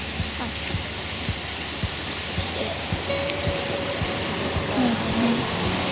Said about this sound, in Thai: โอเคนี่คือน้ำตก